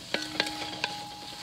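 Spices are stirred in a cast iron pot, with a low steady sizzle underneath and a few soft scraping strokes of the spoon.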